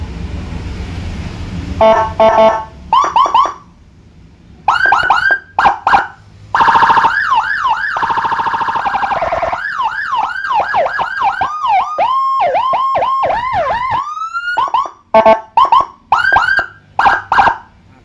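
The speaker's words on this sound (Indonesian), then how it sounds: "sekarang kita coba guys coba suaranya" A 200-watt electronic siren cycles through wails, yelps and rapid warbles, loud and close, with short bursts and brief gaps between patterns.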